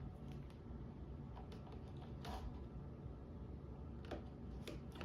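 A small minimalist leather card wallet is hand stitched, with faint creaks and soft ticking pulls of thread drawn through the leather, scattered irregularly against a low, quiet background hum.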